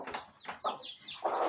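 A protective mother hen scolding near her ducklings and chicks at a village farmyard, giving a few short, close clucks and grumbling calls in quick succession.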